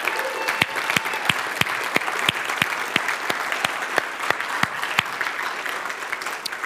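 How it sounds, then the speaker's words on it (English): An audience at a program session gives a round of applause, with sharp individual claps standing out over a steady bed of crowd clapping that continues evenly for several seconds. "Give yourself a big round of applause"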